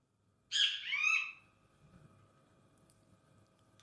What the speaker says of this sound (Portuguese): como esse som, o som do pássaro, que eu estou ouvindo e vocês estão ouvindo